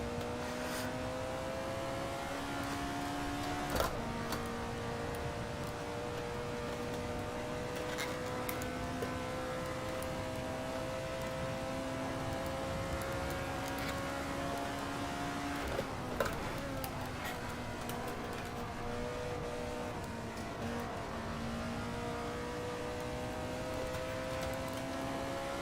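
An Alfa Romeo 33 Stradale engine in Assetto Corsa drones steadily at a high pitch, rising slowly as it revs, dropping briefly around gear changes, with faint ticks and knocks over the continuous engine note.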